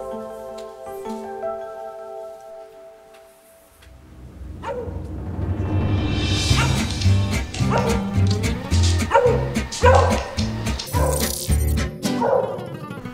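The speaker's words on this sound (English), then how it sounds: "This is my dog, Toby." A pet dog at home barks near a robot vacuum with a built-in camera. A quiet stretch gives way to loud, repeated close barks and yips that run to the end.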